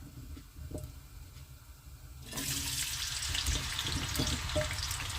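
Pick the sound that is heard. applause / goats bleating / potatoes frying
potatoes frying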